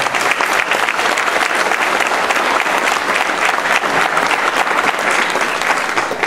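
Sustained applause from a sizable crowd at a football awards luncheon, steady and loud throughout with no pauses, dense clapping filling the whole stretch.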